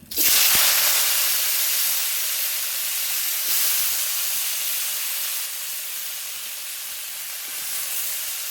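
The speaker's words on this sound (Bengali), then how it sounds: "এবার চিচিঙ্গাটা তুলে দেবো, দিয়ে ভেজে নেবো।" Snake gourd hits hot oil in a wok, sparking a sudden loud sizzle that settles into a steady, fierce hiss lasting the whole time, with no talking.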